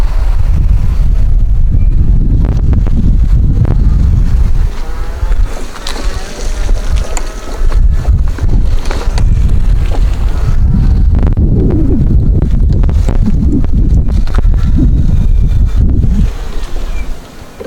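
An EvRider VitaXpress large four-wheel mobility scooter with full suspension and big wide tires rolls across grass outdoors, giving a steady loud rumble heavily buffeted by wind noise throughout.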